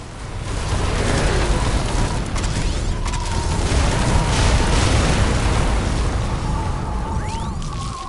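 A defensive tower is destroyed in The Riftbreaker during the Metal Terror finale amid a windstorm: a loud, continuous rumbling roar of blasts and bursts, with a rising whooshing sweep late on, and no talking.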